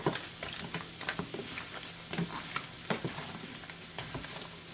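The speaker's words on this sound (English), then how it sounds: "The crab which we marinated, I am going to add in this masala." Marinated crab goes into a pan of hot spicy masala, setting off a close, crackling sizzle with frequent sharp pops and ticks, steady throughout and free of speech.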